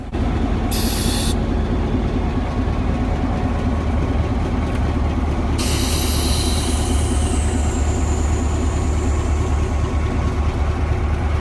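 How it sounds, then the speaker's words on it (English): An ex-Chicago Northwestern GP7U diesel locomotive, rebuilt from a high hood unit, rumbles steadily and loudly while moving empty grain hoppers, with a sustained low engine drone and a couple of brief high screeches. "we find their ex-Chicago Northwestern GP7U 4153 moving empty grain hoppers around"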